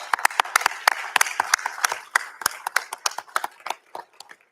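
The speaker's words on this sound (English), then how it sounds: "Give them a round of applause" A small audience at a school board of education meeting claps in sparse applause, made of distinct individual hand claps that are uneven in rhythm, fairly quiet, and thinning out toward the end.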